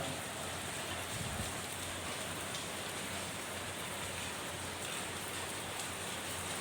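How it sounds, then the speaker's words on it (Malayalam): Dense, steady heavy rain pouring down continuously in Ernakulam, a constant hiss with no voices or breaks. "ഈ പ്രാവശ്യം അതിഭയങ്കരമായ മഴയാണ്"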